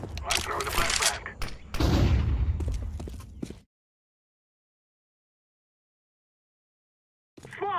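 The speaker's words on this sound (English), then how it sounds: "I'm throwing the flashbang." Counter-Strike match with a thrown flashbang and rapid gunfire: dense bursts of shots and thuds crowd the first few seconds alongside voices, then everything cuts to silence before a brief sound returns at the end.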